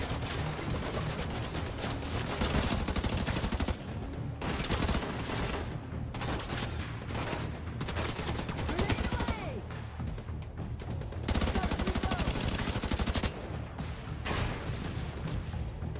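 Rapid automatic gunfire crackles in dense bursts during a firefight in The Division 2, broken by brief pauses and mechanical clatter, loud and close throughout with no voices over it.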